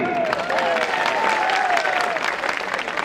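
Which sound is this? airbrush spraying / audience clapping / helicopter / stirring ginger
audience clapping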